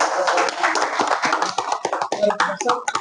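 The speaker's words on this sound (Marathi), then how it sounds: "मी सरांसाठी आपल्या सर्वांना विनंती करतो की सर्वांनी टाळ्या वाजवून" An indoor audience claps steadily for a doctor at a book launch event in Nanded, a dense, close wash of many hands that holds for about three seconds without pause.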